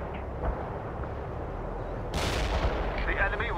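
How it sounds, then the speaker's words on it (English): Artillery barrage in the real-time strategy game World in Conflict, Soviet assault on a hilltop: rumbling low booms under a steady battle din, swelling into a louder crashing impact burst midway that lingers with debris noise. "Artillery here, Commandant. Bringing down that building."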